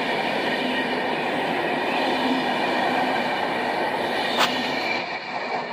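Train passing through Rawicz station in Poland, a continuous close rumble and rolling of wheels with a brief squeal near the end, no talk.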